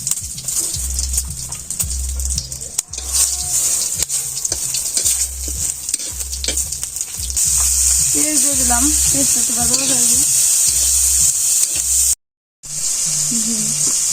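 Cumin, bay leaves and dried chillies sizzle steadily in hot oil in a village kitchen, a bright continuous crackle with occasional stirring; people talk at times over the frying.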